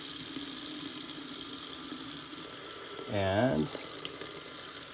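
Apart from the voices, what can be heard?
RV sink faucet running cold water, antifreeze coming through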